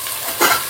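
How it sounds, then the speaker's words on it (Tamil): Onions sizzle steadily in a pan for chicken dum biryani, with a short stirring scrape partway through, close and alone without speech. "வெங்காயம் நல்லா வதங்கி வரட்டும்."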